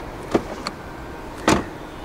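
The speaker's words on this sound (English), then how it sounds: "The windows dip down a little bit as you open the doors to clear the door frame." Frameless window of a 2020 BMW 218i Gran Coupe M Sport dipping slightly as the door opens: a faint short motor whir near the start, a small tick, then a louder brief whirring burst, with no talk.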